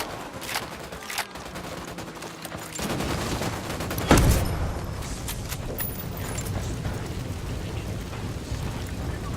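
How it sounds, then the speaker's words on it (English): Gunfire in the video game Ghost Recon Wildlands, bursts of sharp shots and rattling fusillades over a constant rain-like wash, with one heavier boom near the middle. "Opening fire on these fuckers."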